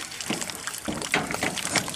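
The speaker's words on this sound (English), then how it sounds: "Oh yeah, that's the aerator." An aquarium aerator bubbles in a fish tank, a close, continuous burble of gurgling bursts and splashy pops at an uneven, rapid rhythm, with no talking.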